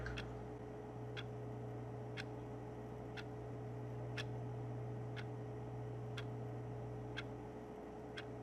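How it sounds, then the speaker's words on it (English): A wall clock ticks in The Stanley Parable, nine crisp, evenly spaced ticks about one second apart over a steady low room hum, fairly faint and with no voices. "see if this clock actually works"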